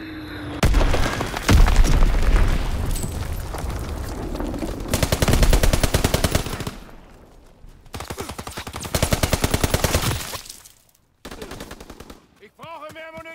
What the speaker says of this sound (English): Enemy strafing run incoming. Get to cover. Enemy bomb incoming.